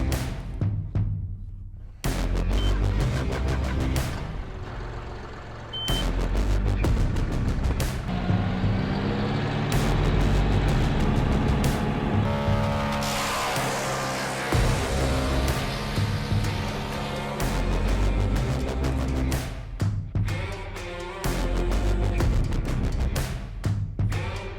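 A SPLIT-FIRE 4003 wood chipper driven by a John Deere 5055E tractor runs loud and close, a heavy continuous engine drone with rising and falling load as material feeds through, punctuated by sharp cracks and thumps.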